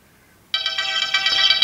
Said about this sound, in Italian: Come sentite, la musica viene riprodotta attraverso l'orologio.